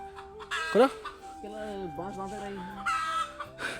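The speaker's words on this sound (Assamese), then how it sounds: "মুৰ্গীটো কেক কৰি আছে" A hen clucks close by in short, irregular bursts, with other birdlike calls and background voices mixed in.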